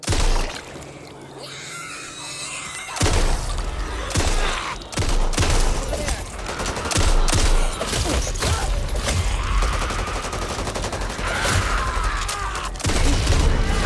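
Assault rifle gunfire in the game Back 4 Blood, sustained bursts of loud shots and clatter filling most of the stretch after a quieter start, with game effects and brief shouts mixed in.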